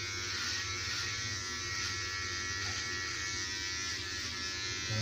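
An electric hair clipper buzzes steadily as someone cuts their own hair in a bathroom, a close, constant motor drone with a bright whine and little change across the clip.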